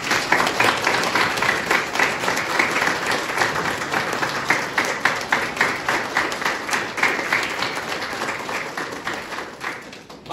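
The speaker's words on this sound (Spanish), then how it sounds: "dándole un aplauso, ¿sí?" A church congregation applauds at the close of a Mass, sustained dense clapping that runs evenly throughout with a faint high electronic whine behind it.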